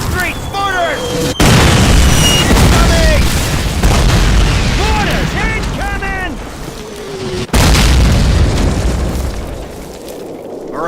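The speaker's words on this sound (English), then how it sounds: "Incoming! Mortars! Incoming!" Mortar shells burst in Call of Duty (2003) as loud, booming explosions, with a heavy blast near the start and another midway through, over constant battlefield noise and shouted voices.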